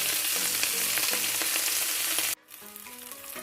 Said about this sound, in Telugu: ఇందులో నేను ఇప్పుడు గ్రీన్ చిల్లీ వేస్తున్నాను. అలాగే కొత్తిమీర పుదీనా వేస్తున్నాను.